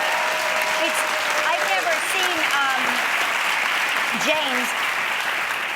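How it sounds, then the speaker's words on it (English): A studio audience applauds steadily throughout, dense and close, during a news segment about the Thai soccer team rescue, while several people talk over the clapping. "You can applaud."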